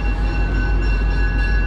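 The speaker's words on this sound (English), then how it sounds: "I'll just let you appreciate this train leave." A commuter train departs Wilmington station on the Lowell Line, a loud, close, continuous rumble of wheels and engine with steady tonal whine, heard alone.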